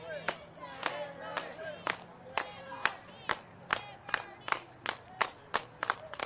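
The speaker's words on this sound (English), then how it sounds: "You can also hear how split the crowd is too" A wrestling crowd at a World Series of Wrestling show at Penn Brewery claps in a steady rhythmic beat, about two sharp claps a second, over a low murmur of voices and cheering.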